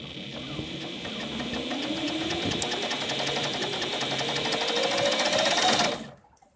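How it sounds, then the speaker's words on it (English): A belt and pulley drive runs steadily with a dense, fast mechanical whir and rattle, moderately loud and close, holding constant before cutting off near the end. "here's generation 2, the belt and pulley system"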